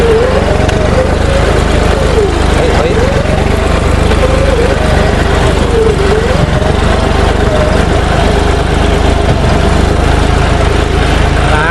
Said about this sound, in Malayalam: നമ്മൾ ഇപ്പോൾ ഈ ട്രാക്ടറെ കയറിയിട്ട് നമ്മൾ ട്രാക്ടറിനാട്ടാ പോകുന്നത്.